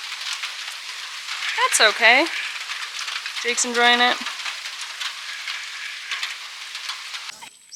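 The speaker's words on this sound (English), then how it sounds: "Just a little bit of rain." A steady hiss of light rain patters throughout in Port Barton or El Nido, Philippines, while two people speak briefly over it.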